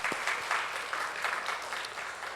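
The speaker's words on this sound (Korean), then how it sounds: "우리 감사하다고 박수하겠습니다" A church congregation claps together during a Sunday service, a steady, fairly faint round of applause from a crowd that carries on without pause.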